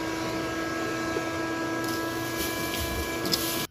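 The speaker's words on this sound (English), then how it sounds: "with all that additional vacuuming done" A vacuum cleaner runs inside a Fiat project car as a steady, loud, broadband whine with a constant motor hum and no pauses, then cuts off abruptly at the end.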